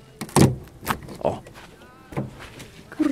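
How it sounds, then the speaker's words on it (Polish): A frozen door on a 2007 Chrysler Pacifica Limited AWD being forced open in winter cold, giving several sharp knocks and thuds with a creaking pull, close by, with a person speaking between the bangs. "przymarzły drzwi"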